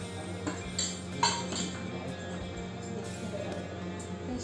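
Peanut burfi mixture being stirred in a metal pan, with a steady scraping bed broken by a few light clinks of spoon against the pan, close and moderately quiet, no talking.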